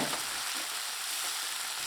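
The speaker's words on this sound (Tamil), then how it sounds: "இந்த தக்காளி நல்லா வதக்கி விட்டுக்கலாங்க" Chopped tomatoes, green chillies and ginger sauté in a pan for a red flattened rice vegetable upma, giving a soft, steady sizzle throughout with no voices.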